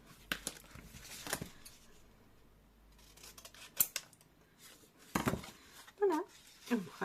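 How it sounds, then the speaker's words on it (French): Scissors snip through paper during a farm-themed scrapbooking album project, a series of soft, irregular cuts at close range with quiet pauses and light handling noises between them. "vous coupez votre papier"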